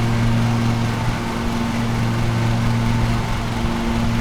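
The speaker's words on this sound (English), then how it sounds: "I would like to leave the mower engine sound the way it is because in theory it would be kind of loud" Steady engine drone of a lawn mower in the Lawn Mowing Simulator video game, a constant loud hum that runs unbroken with no voices.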